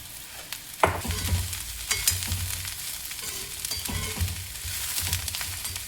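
Cabbage hisses and crackles in a hot pan as a spatula clanks and scrapes, stirring it in several bursts.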